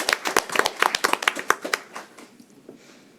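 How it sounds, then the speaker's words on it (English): A small group at a city council meeting claps briefly, a ragged burst of close handclaps that thins out and stops after about two seconds. "I'd just like to clap for her."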